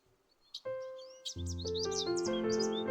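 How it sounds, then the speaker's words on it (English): Bird chirps and tweets outside a window, high and bright, recurring over a steady tonal drone that swells in partway through. "The insistent chirping of birds outside her window finally pulled Maya from her restless sleep."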